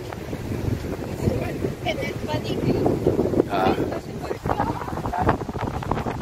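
Strong wind blowing off the open sea at Shorncliffe Beach in Brisbane, Australia, a continuous gusty roar buffeting the microphone with muffled voices underneath.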